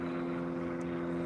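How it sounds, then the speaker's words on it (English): A steady low droning engine hum with a tonal whine, like a propeller airplane passing overhead near an airport, heard outdoors at a lake, continuous and moderately loud. "I hear a plane."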